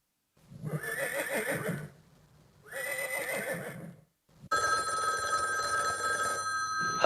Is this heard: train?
no